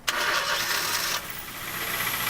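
A Honda Jazz engine fires up after a gearbox replacement: a brief cranking whirr that catches into a rough running note for about a second, then settles into a quieter idle.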